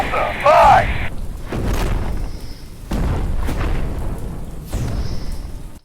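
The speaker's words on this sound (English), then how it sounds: "Firing barrage at Delta 5." An artillery barrage fires in the game Radio General, a series of heavy booms spaced roughly a second or two apart, each with a rumbling tail, alongside radio-style voice chatter.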